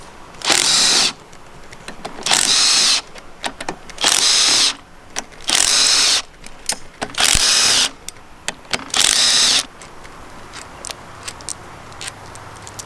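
A power tool spins out the 12mm bolts on a Subaru differential cover in six loud, evenly spaced bursts, each about a second long, with clicks and clatter of loose parts in between.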